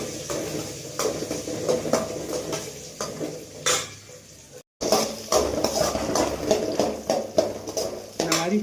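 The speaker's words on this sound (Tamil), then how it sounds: "ஆனியன் வந்து ஃப்ரை ஆகிட்டு இருக்குது" Small onions frying and sizzling in a pan in a home kitchen, with repeated clinks and scrapes of a spoon stirring against the pan over a steady sizzle.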